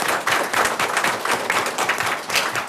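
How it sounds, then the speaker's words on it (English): Steady applause from an audience at a school board of education meeting, dense clapping that fills the room evenly and continues without a break. "That's a round of applause, I think."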